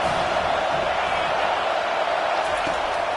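Football stadium crowd roaring during an opponent's third down, a dense steady wall of noise from a large crowd, loud and sustained with no breaks.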